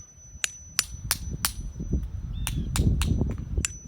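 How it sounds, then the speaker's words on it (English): Sharp metal chisel strikes chip old mortar off a grave marker stone, a series of about ten distinct close clangs at an uneven rhythm over faint low scraping. "Now I'm going to take the old mortar off."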